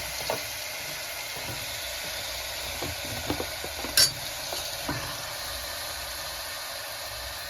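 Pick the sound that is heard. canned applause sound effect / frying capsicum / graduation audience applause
frying capsicum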